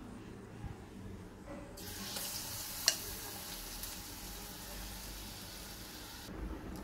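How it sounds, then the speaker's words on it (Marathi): Potato bhaji deep-frying in hot oil gives a faint, steady sizzle that swells when a new batch goes in, with a single sharp clink partway through. "दुसरी बैच सेम त्याच पद्धतीने काढायची आहे।"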